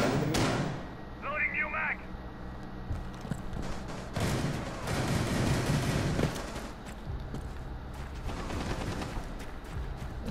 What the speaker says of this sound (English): Right there, shooting at me.